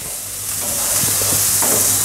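Seeds crackle and sizzle loudly in hot oil with turmeric and salt, a dense bright hiss that stays close and constant, with a few scattered pops and no one speaking.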